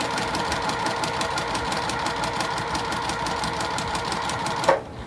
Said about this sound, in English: bring it over to our sewing machine, and we're gonna sew a 1/4 inch seam all the way down one side